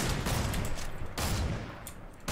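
Bursts of rapid gunfire crackle through a Fortnite match, several dense volleys of shots in quick succession with brief gaps, loud and fairly close, with no talking over them.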